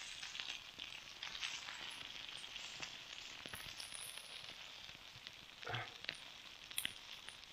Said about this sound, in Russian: Вот я думаю, хватит, наверное, яйца жарить